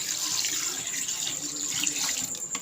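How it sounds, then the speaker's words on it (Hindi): Water pours in a steady stream into a pot of mutton head and trotters, a continuous splashing hiss with no pauses. "अब इसमें पानी डालते हैं।"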